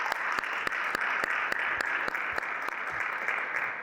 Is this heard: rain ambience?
no